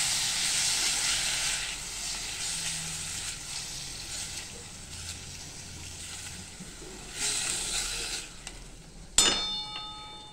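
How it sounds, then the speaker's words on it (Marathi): Cubes of paneer dusted with red chilli powder fry in hot ghee over a high flame, giving a steady close sizzle and hiss with a few brief louder bursts and a clink near the end. "आणि आता हे पनीर आपण चांगलं ह्या तुपामध्ये परतून घेणार आहे"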